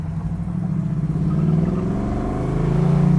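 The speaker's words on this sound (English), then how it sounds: "the big block making that exhaust sing" A 1968 Chevrolet Camaro with a big-block engine pulls out into traffic at about half throttle, its exhaust a loud, close rumbling drone that rises steadily in pitch and strength.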